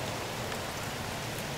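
Steady rain pours down outdoors over a thick field during a deer hunt, a dense, even hiss with no break and no voices.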